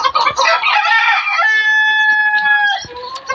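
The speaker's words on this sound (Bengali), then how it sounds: "মুরগিগুলোকে এখন আমি খাবার পানি দিলাম, ওরা সুন্দরভাবে খাচ্ছে দেখেন" Egyptian Fayoumi chickens kept as backyard poultry give a loud, close call: a rough clucking start stretching into a long, ringing crow that breaks off sharply, with no talk.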